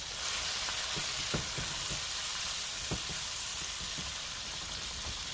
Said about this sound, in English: I'm just going to give it a little stir